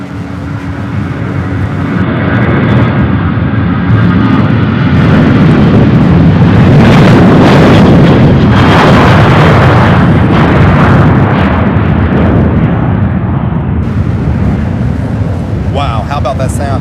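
A Boeing 767 jet roars at the airport, its engines building into a loud, broadband rumble that swells and holds for many seconds, up close and powerful, with no talk over it.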